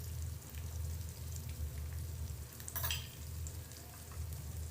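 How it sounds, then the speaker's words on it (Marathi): Green chillies drop into a pan of browned onion and fry with a soft, steady sizzle, faint and close, with a brief clatter partway through. "कांदा आपला भाजून झाला आहे मिरची टाकते पाच सहा हिरव्या मिरच्या घेतल्यात"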